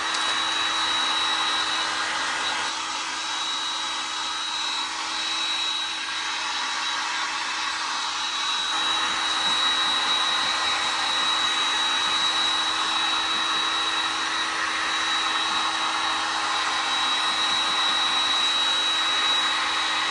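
A hair dryer on a low temperature setting runs steadily and loudly throughout, blowing on a handmade DIY pet hat, with a constant whine and no talking.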